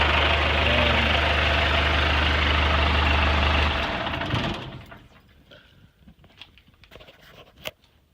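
A Cummins 4BT diesel swapped into a K30 truck runs at a steady, loud idle with a deep low rumble for about four seconds, then the engine sound drops away, leaving faint clanks and a sharp knock near the end.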